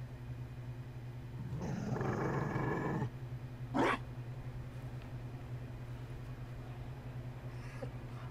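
A Mabari war dog in Dragon Age Inquisition gives a low, rumbling growl lasting a little over a second, then a short sharper burst, heard over a steady background hum in a quiet scene.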